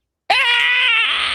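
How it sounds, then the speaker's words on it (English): A loud, sustained scream from a played recording starts abruptly and holds steady for about a second before trailing off, with no talk over it. "favorite thing is the screams in the background"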